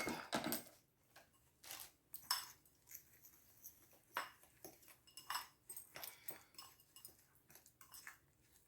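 Sweet potato casserole mixture with melted butter stirred in a bowl: soft, irregular clinks and scrapes of a spoon against the bowl, quiet and close, with no speech.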